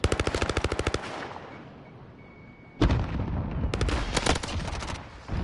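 Call of Duty match with a rapid burst of automatic gunfire, a lull, then a loud grenade-like blast followed by dense bursts of firing, close and loud.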